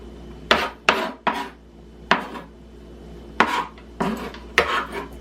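A knife strikes a cutting board in sharp, irregular knocks, about ten chops spread over a few seconds, close and clear with no talking.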